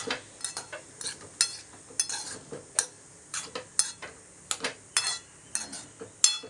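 A spoon mixes breadfruit pieces with turmeric powder and salt in a pan, a series of sharp irregular metallic clinks and scrapes, close and fairly quiet, with no talk.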